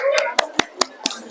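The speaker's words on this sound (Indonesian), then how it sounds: "Beri tepuk tangan buat kelompok 16." A classroom of students claps for a student group, giving five or six sharp, evenly spaced claps in quick succession, close and loud, with a voice briefly heard at the start.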